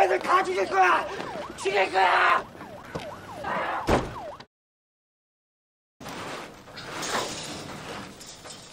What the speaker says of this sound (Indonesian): alhasil mereka pun terpaksa menyeret Jojo ke mobil ambulan rumah sakit jiwa